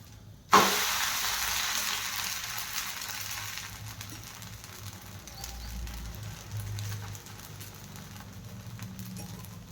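A fasting dosa sizzles on a hot pan right after being flipped, opening with a sharp hiss as it lands and then settling into a steady soft frying crackle, close and alone.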